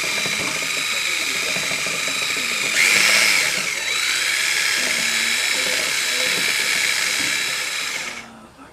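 A power drill with a mixing attachment stirs a compound inside a can during a Jeep XJ floor replacement, a steady high-pitched whine that briefly strains louder, then runs on evenly before winding down at the end.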